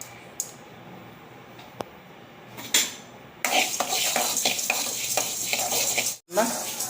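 Washed lentils dry-roasting in a pan as a spoon stirs them, sparse clinks at first, then a dense rattling scrape and light sizzle close by, with no talk.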